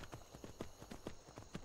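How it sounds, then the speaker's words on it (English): Shadowmere, a horse in Skyrim, clambers over rocks with a steady run of hoof clip-clops, about eight distinct knocking steps in under two seconds, close and moderately loud over a faint background hum. "Shadowmere can climb these rocks all day."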